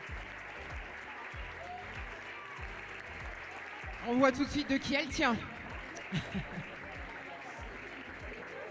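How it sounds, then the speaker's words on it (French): Audience applause for Jean Teller at a French championship pony eventing award ceremony. The clapping is a steady, moderate wash, and an announcer's voice speaks over it midway. "Vous pouvez l'applaudir bien fort."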